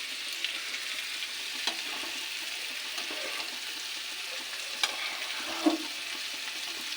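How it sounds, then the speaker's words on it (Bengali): Food frying in a pan for a Bengali broken-rice dish, a steady bright sizzle throughout with a few stirring clicks and scrapes, close and alone with no talk. "এটাকে ভেজে নিয়েছি"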